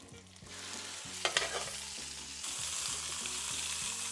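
Pork shoulder browning in olive oil in a hot pan, a continuous close sizzle that swells louder partway through, with a few clattering knocks of the meat being moved early on.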